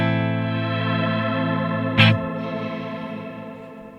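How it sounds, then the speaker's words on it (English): Sustained electric guitar chord rings out through a shimmer reverb pedal with a shimmering, chorus-like wash, a single sharp pick attack midway, then the sound slowly decays. "And the Oceans 12 reverb, which is set to shimmer."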